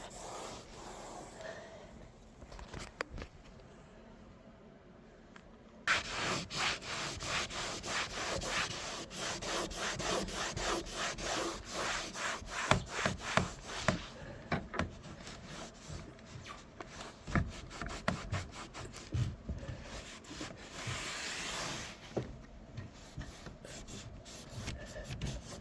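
Rubbing and scrubbing as cleaner wipes grime from the interior of an SN95 Cobra Mustang, a steady close rasping of repeated strokes that starts quieter and grows busier and louder after a few seconds.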